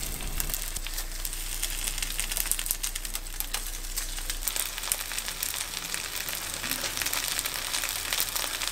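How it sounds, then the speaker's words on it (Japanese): Starch-coated tofu fries in salad oil in a pan over medium heat, giving a steady, close crackling sizzle with fine pops throughout and no talking. "フライパンにサラダ油をひいて、片栗粉をまぶした豆腐を並べて焼きます。"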